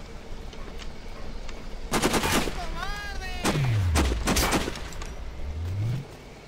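Gunshots crack around the player in Sniper Ghost Warrior, a cluster of sharp reports followed by further shots and whizzing, ricocheting sounds, fairly close over a low rumbling background.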